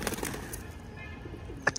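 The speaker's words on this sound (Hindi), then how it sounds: "वो जुड़वा कबूतर हमारे पास आया" Pigeons kept in a pet aviary coo softly a few times, faint and close, with a brief rustle near the end.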